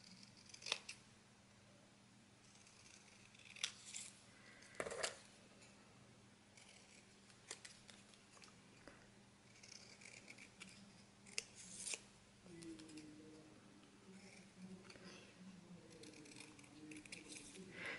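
Scissors snipping paper words cut out for a scrapbook album, a string of sharp, separate snips and small rustles spread across a quiet room, close and faint.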